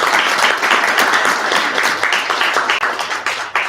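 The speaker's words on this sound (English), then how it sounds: "Again, one more round of applause for Unity Fest." Sustained audience applause for Unity Fest at a student government association meeting, a dense crowd of clapping hands that holds steady and thins slightly toward the close.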